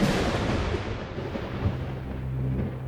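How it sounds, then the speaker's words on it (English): Thunder on a dark, stormy night rolls as a loud, continuous low rumble with no breaks, heard alone without any talk. "It was a dark, stormy night."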